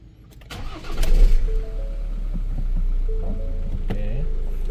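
A Ford Ranger XL 4x4 with manual transmission cranks briefly and fires up. A loud burst early on settles into a steady, close idle, with a few light clicks and tones over the top.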